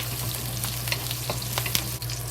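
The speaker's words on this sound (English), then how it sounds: "We just add it to slowly fry the scallion until the scallion is brown outside" Scallions fry slowly in not-too-hot oil, giving a steady close sizzle with small crackles and pops scattered through.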